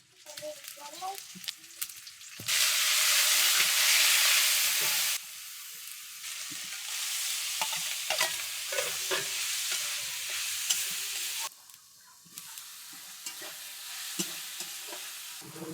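Dried puti fish (shutki) fries on a clay stove in a loud, close hiss that surges when stirred, then settles into a lower steady sizzle, with faint voices in the background.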